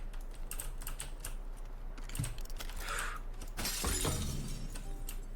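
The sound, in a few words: glass breaking in a video game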